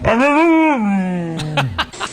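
A dog whines in a long, high, sliding vocal cry that bends downward, followed by a few short yelping or whimpering bursts, close and loud.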